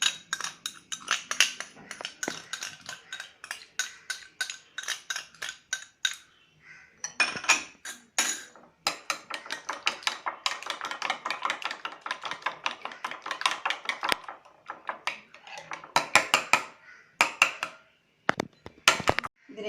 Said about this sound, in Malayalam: ഉപ്പും മസാലപ്പൊടിയും, ഗരം മസാലപ്പൊടി, മഞ്ഞൾപ്പൊടി, മുളക് പൊടി, കുരുമുളക് പൊടി എല്ലാം ചേർത്ത് നന്നായിട്ട് മുട്ട അടിച്ച് പതപ്പിക്കുക